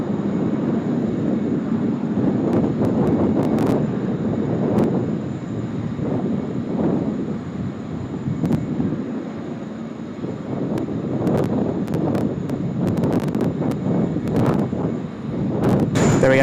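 An Emirates airliner on runway 16 right at Sydney Airport rumbles with a loud, continuous low roar of jet engines, buffeted by wind noise and gusty crackle on the microphone.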